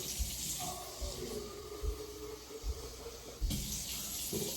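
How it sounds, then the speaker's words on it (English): Tap water runs into a container for a protein shake, a soft close gurgling flow with a few low thumps, fairly quiet. "A little water."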